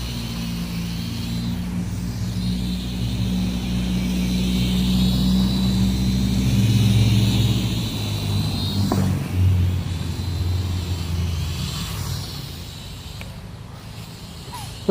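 An Attop A8 toy quadcopter drone flies with a steady, close, buzzing hum that swells and eases as its throttle changes; no one speaks.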